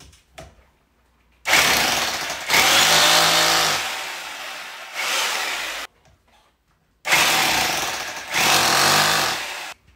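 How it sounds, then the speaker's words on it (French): A power drill whines loudly in four separate bursts, each lasting one to two seconds with short pauses between, drilling holes in a wall, close up and with no talking. "on va creuser le premier trou du haut. Et on va bien veiller à ce que la perceuse soit bien à l'horizontale."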